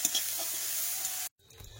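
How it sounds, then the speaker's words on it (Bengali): Fish sizzling and being stirred in hot oil in a wok, a continuous bright hiss with light scraping, cutting off abruptly near the end and followed by faint quiet noise. "কড়াই তেল দিয়েছি, আর এই যে ফ্রিজের মধ্যে রাখা ছিল মাছ কিন্তু দিয়ে দিলাম, একটু ভেজে নিই নাড়াচাড়া করে"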